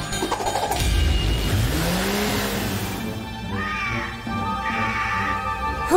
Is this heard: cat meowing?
yes